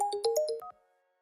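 A mobile phone rings loudly during a job interview, a short bright electronic melody of quick tones that cuts off abruptly.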